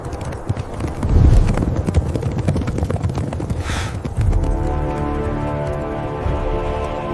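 Parthian cavalry gallop close and loud, hooves pounding in a rapid clip-clop. A brief rushing swell comes midway, and sustained tonal layers join the hoofbeats toward the end.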